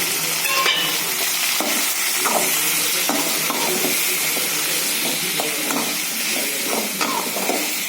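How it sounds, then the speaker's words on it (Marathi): Potatoes, tomatoes, chillies and curry leaves fry in a pan, giving a steady loud sizzle and hiss throughout, with repeated scraping clatters as the mixture is stirred, and no voices. "मिरची शिजली कढीपत्ता टाकू आलू टमाटर टाकू"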